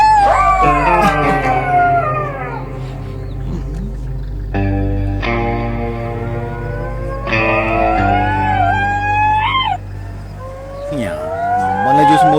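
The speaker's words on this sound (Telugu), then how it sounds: "అవి కుక్కలు కాదా, నక్కలు." A pack of jackals howls in overlapping rising and falling wails, several animals crying at once in repeated bursts, loud and close.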